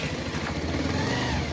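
A motorbike's engine hums and rumbles continuously at close range on a short ride across open countryside, rising slightly, with no voices.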